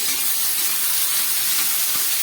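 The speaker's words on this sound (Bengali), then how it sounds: "চিংড়ি মাছগুলো ভাজা হচ্ছে" Shrimp frying in a wok with salt and turmeric give a steady, dense sizzling hiss that stays even throughout, close by and with no voices.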